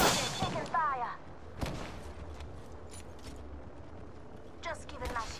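Gunfire in the battle-royale shooter Apex Legends: a few sharp, loud shots near the start, then scattered fainter cracks under game noise, with a player's voice talking over parts of it.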